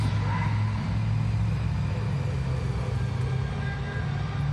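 A 12,000-pound Monster Jam truck rumbles steadily inside an indoor arena, a deep, even engine drone with a constant low hum and no talk.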